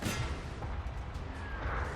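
Massed WWI cannon artillery fire in the strategy game Total War: Great War, a dense, continuous rumble of booms and blasts layered over one another throughout, loud and steady with no talking.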